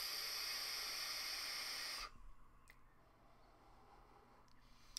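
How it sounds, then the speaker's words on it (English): Steady hiss of a HorizonTech Falcon sub-ohm tank vaped at half airflow: a loud, close airy draw for about two seconds, then it cuts off to quiet room tone with a couple of faint clicks. "Slightly noisy, but what do you expect from a sub-ohm tank?"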